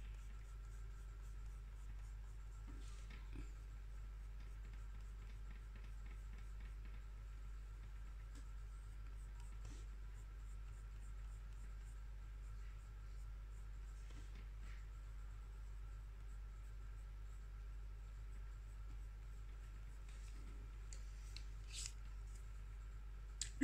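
A Prismacolor colored pencil in lilac violet shades mermaid hair on paper. Faint, close scratchy strokes come and go over a low steady hum, with no talking.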